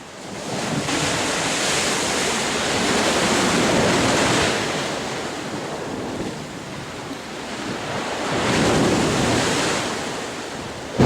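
Strong wind and surf at the Gynn sea wall on a small tide, a continuous roar of wind and breaking waves that swells and recedes in two long surges, loud and close with no talking.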